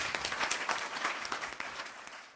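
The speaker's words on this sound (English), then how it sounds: "Huge round of applause for Rahul Kashyap." An audience at a digital PR conference, IMAGEXX 2023, applauds as a speaker comes onto the stage. Loud, continuous clapping from many hands, steady throughout and tapering slightly at the end.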